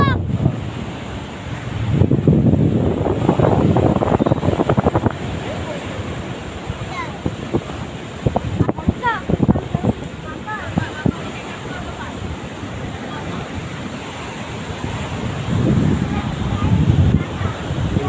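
Strong ocean waves at a beach in the morning crash and surge in loud swells, with heavy wind buffeting the microphone and occasional voices in the background.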